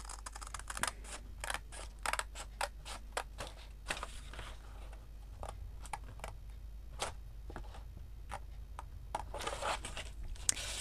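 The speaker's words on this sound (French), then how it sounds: "Donc, on y va avec les ciseaux." Scissors snip through paper in a quick series of sharp, crisp cuts, close by, with short pauses between bursts.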